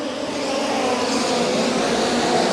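USAC National Midget race cars roar off the start at Angell Park Speedway's dirt track, a loud, dense wall of engines revving hard and sustained together with a steady, slightly rising drone.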